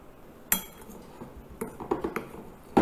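Boiled chickpeas being mixed with dry spices in a bowl, with a few sharp clinks of a spoon against the dish and softer scattered knocks in between, close and fairly quiet.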